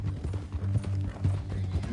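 Horse hooves clip-clop in a steady walking rhythm within the Red Dead Redemption 2 video game, fairly close and continuous beneath a low droning game score, with no talk.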